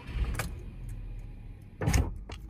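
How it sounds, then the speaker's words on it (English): The frameless power window on a Volkswagen Beetle shifts on its own with short whirring motor bursts, one near the start and a louder, longer one toward the end, heard close up inside the car with no talk. "Now we start and the window will start to freak out."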